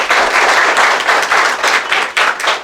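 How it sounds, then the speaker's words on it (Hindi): Students applauding in a classroom: steady, loud, close clapping from a group, continuous throughout with slight rhythmic pulsing and no talking. "थोड़ा ताली आप लोग बजा दीजिए।"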